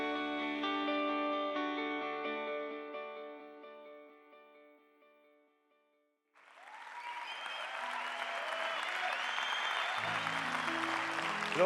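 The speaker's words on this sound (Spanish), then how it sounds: "¿Qué te parece si ese aplauso es para Él?" A church congregation breaks into loud, sustained applause right after sustained music fades to a brief silence, with the clapping filling the room and a low tone returning near the end.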